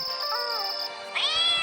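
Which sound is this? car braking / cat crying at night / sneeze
cat crying at night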